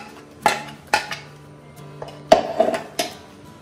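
Ground masala paste is moved into a vessel with several sharp metal clinks and clatters of dishes and utensils, spaced irregularly and heard close up without talk.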